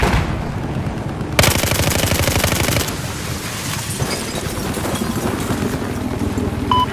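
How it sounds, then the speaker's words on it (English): Rapid automatic gunfire rattles in the Battlefield 4 video game on the Hainan Resort map, a loud sustained burst followed by further steady bursts and scattered shots through a busy, dense mix of in-game noise. "There's an enemy fire! West of your location!"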